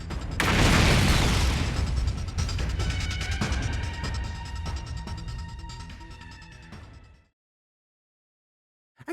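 A bomb goes off in a video game, opening with a loud booming blast that rumbles and crackles for several seconds before cutting to silence, heard alone without talk.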